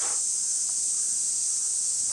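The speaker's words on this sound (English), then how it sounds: "The cicadas are out" A steady, high-pitched drone of cicadas in Japan fills the air continuously, loud and unbroken, with no voices.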